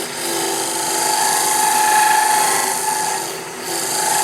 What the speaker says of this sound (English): single edge negative rake scraper. And that's going to clean off that little bottom.